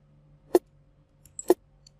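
Snare drum sample without EQ, two short sharp hits about a second apart, dry and isolated.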